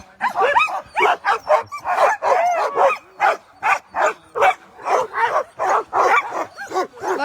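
Sled dogs at the start of the Vercors Quest race bark and yip excitedly in rapid, loud bursts close by, with whimpers mixed between the barks.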